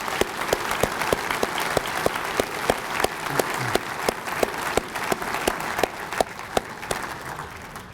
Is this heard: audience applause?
yes